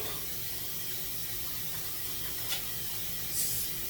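Tap water running into a sink as hands are wetted, a steady broad hiss of flowing water with a couple of brief splashes near the end, no speech.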